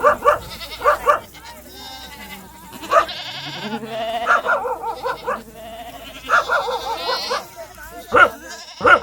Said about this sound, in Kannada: ಕುರಿ ಹಿಂಡಿಂಡೆ ಬತ್ತಾವೆ ನೋಡ್ರಿ ಅಲ್ಲಿ.